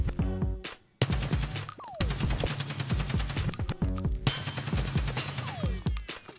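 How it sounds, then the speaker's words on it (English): A rifle fires full-auto in Escape from Tarkov: rapid, loud bursts of gunfire with fast, even shot rhythm, a brief pause after the first second, and a short break around the fourth second before the firing resumes, no voices. "let me go ahead and do full auto now"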